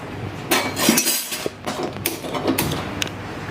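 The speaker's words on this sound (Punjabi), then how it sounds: "ਤੜਕਾ ਲਾਉਣਾ ਸਟਾਰਟ ਕਰਦੇ ਆ ਕੜਾਈ ਰੱਖ ਲਈਏ" A metal kadai set down on the stove for tempering, with several clanks and metallic knocks of cookware in a close, busy kitchen.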